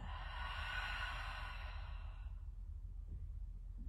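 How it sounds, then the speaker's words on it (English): A long, gentle breath out, soft and airy, fading smoothly over a couple of seconds into near silence, close and quiet in a calm setting. "Long, gentle, easy breath out."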